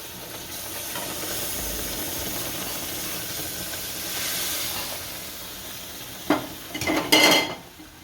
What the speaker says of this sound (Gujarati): અને હળવું હળવું દૂધ નાખવાનું, ઉડે નકર તો બહુ